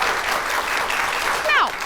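Studio audience reaction on a talk show, a sustained wash of crowd applause and noise with a brief whooping cheer rising near the end.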